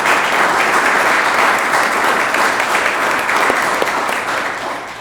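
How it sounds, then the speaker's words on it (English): An audience claps at a committee announcement, a loud, sustained burst of applause that holds steady and then tapers off gently over about five seconds. "you can clap for that too"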